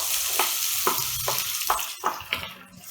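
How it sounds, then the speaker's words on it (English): Half a cup of sliced onions frying in about two teaspoons of oil in a hot pan, a loud close sizzle with a steady run of quick scraping stirs roughly every half second. "Into a hot pan, I am adding about 2 teaspoons of oil, and I am going to add half a cup of sliced onions."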